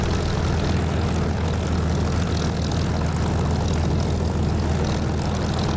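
Steady propeller aircraft engine drone in the DCS flight simulator, a loud continuous broadband roar with a low rumble that holds without pause.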